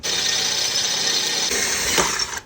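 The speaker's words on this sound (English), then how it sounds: "we're actually going to drill this out with a hole all the way through the door." A power drill bores a 3/8 inch hole straight through a commercial door for push bar hardware, with a loud, steady whine that shifts slightly in pitch before cutting off at the end.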